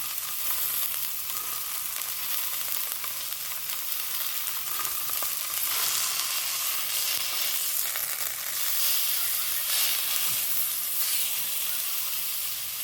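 Mushrooms and beef sizzle steadily in a little oil in a pan, a loud, continuous, close frying hiss with crackles and no talking.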